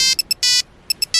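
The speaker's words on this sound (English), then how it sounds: "It's just my new car's flip phone." A flip phone in a car rings with a bright electronic ringtone, short chirping bursts alternating with longer sustained tones, loud and close with no talking.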